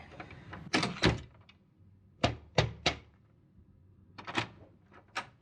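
A studio door opens and closes several times in a quiet room, giving a series of sharp close thunks and latch clicks in small clusters separated by brief silences.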